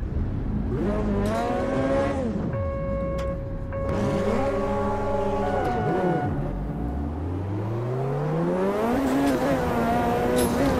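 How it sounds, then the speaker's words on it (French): A Ferrari GTO race car roars through its gears in the Automobilista 2 racing game, engine pitch sweeping up and down through repeated shifts and revs, loud and continuous with no talk. "Allez, c'est donc parti à bord de cette Ferrari."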